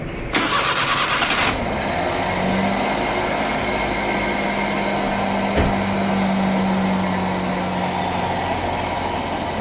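An old car's engine cranks on its self-starter for about a second, catches, and settles into a steady, loud idle in a service workshop, with one brief knock partway through.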